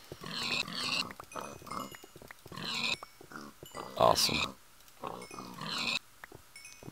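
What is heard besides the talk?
pigs in Minecraft, video game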